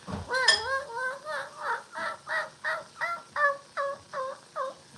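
A voice imitates a squeaky hamster wheel with a turkey-like gobble, producing about ten rhythmic, evenly spaced squeaking calls, loud and close.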